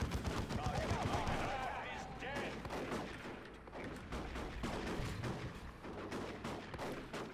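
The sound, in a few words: shotgun fire in the video game Dawn of War 2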